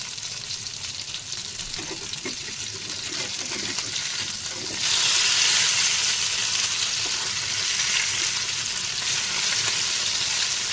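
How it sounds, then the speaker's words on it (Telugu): Fish pieces fry in hot mustard and sunflower oil for an Indian-style fish fry, a steady crackling sizzle that swells louder partway through and holds close and continuous with no talking. "ఆయిల్ బాగా వేడయ్యాక ఈ ఫిష్ ముక్కల్ని అన్నీ వేసుకొని రెండు వైపులా బాగా ఫ్రై చేసుకోవాలి"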